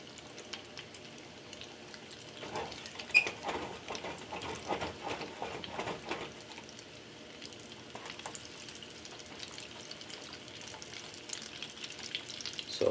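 Potato balls fry in hot oil with a soft, continuous sizzle and bubbling, quiet and close, with occasional stirring clatter and no talk.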